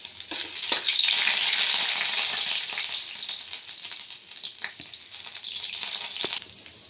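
Chopped ginger frying in hot oil in a kadhai, a loud steady sizzle that swells early and then settles, with scattered sharp crackles and a few stirring knocks near the end.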